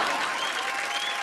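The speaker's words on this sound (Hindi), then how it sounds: "तालियां।" Audience applause at an award show, a short burst of steady clapping from a large crowd, moderately loud and heard alone.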